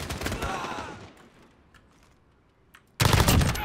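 A Kilo 141 assault rifle in a video game fires a rapid, close, loud burst of automatic shots, falls quiet apart from faint clicks, then erupts into another heavy volley.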